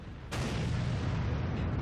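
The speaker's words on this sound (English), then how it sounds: "There's the shot, but the arty missed." A single heavy artillery shot booms out in World of Tanks, a sudden loud blast followed by a long rumbling tail that fills the rest of the moment.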